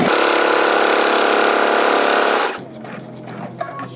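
Steady, loud mechanical whir of a sewing machine stitching continuously, then it stops abruptly and leaves quieter room noise with faint clicks.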